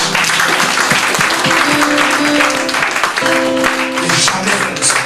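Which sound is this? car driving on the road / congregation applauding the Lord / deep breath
congregation applauding the Lord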